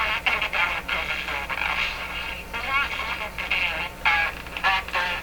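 A Bakelite Baby Champ NE 5000 tube radio playing a voice through heavy distortion. The sound comes in choppy, broken bursts that stutter and cut in and out over a steady hum.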